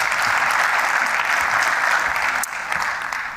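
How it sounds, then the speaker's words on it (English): A conference audience at a small-business event applauds a panelist, loud, dense and sustained, easing slightly toward the end, with no talking over it. "Give her a round of applause."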